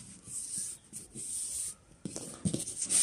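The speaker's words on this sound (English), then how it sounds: "Just fold the paper." Sheets of paper being folded and creased by hand for a wine bottle wedding centerpiece, giving soft, close rustling and rubbing strokes that grow sharper and louder near the end, with no talking.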